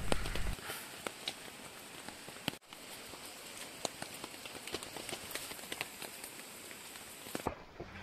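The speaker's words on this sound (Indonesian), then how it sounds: "Masih dalam perjalanan ke lokasi saja ini sudah kena hujan" Steady rain patters on a surface close by on a waterfall slope during the rainy season, with scattered louder drops over a continuous soft hiss.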